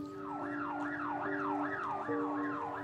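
A wailing emergency siren rises and falls in steady repeating sweeps, loud and continuous, with a low engine hum beneath.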